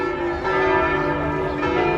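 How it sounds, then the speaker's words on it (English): A church bell ringing in Florence, a sustained bright metallic tone with rich humming overtones, steady and fairly loud, with no voices over it. "Beautiful bell."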